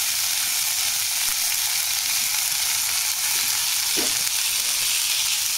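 Peas with chilli roasting in a pan for kachori filling, a continuous loud hiss and sizzle throughout with a brief scrape of stirring near the end.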